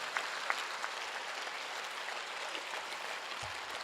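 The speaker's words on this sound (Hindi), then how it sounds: "दोनों हाथ उठाकर 1 मिनट की तालियां" Audience at a Hindi comedy poetry show breaks into sustained, even applause, a steady dense wash of many hands clapping with a few sharper claps near the start and no talking.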